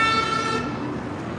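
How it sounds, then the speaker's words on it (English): A bus horn blares on a busy Las Vegas street, a loud, steady blast that cuts off after about half a second and leaves the rumble of traffic. "That car thought the bus was honking at him."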